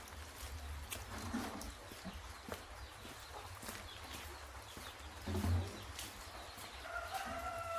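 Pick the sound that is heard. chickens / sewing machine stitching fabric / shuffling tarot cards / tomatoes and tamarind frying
chickens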